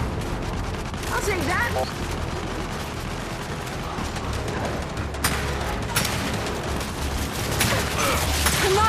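Turret gunfire pounds away in the Gears 5 video game, dense bursts of heavy shots and blasts running continuously, loud and close, with sharp cracks standing out and a brief spoken line over the clamor.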